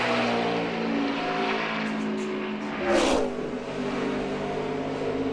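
A NASCAR Sprint Cup stock car runs a qualifying lap at Darlington for the Southern 500, its engine a steady, sustained drone that swells briefly as it passes closer, then settles back to a constant roar.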